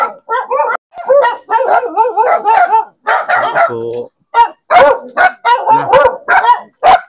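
Several dogs bark repeatedly and loudly in quick bursts, with yips mixed in, while a person speaks briefly among them.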